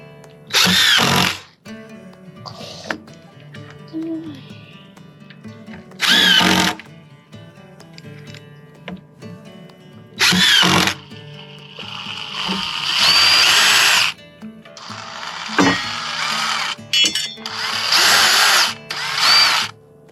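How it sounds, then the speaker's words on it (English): A power drill driving screws into wood whirs in several short bursts separated by pauses, then longer runs, close by and loud. "use your drill"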